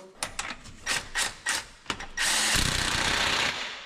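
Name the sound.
tightening crank bolt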